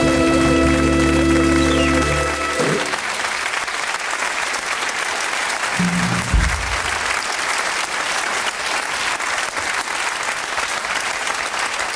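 A TV studio audience breaks into loud, sustained applause welcoming a guest, a dense wash of clapping that carries on steadily for many seconds after some music fades out early.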